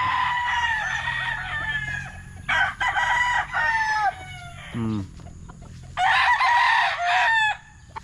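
Several loud roosters crow in turn, long strained calls with short gaps between them, close by, with a low cluck in the middle.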